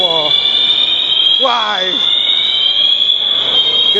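A fire alarm sounds inside Holyoke Mall as a steady, piercing high tone, with pulsing horn-like blasts over it. A voice briefly speaks a single word.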